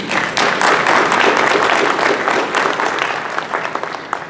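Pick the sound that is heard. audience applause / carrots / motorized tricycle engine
audience applause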